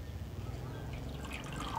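Water dripping and trickling from a freshly watered orchid pot as it drains, a soft continuous patter of drops at close range with no talking.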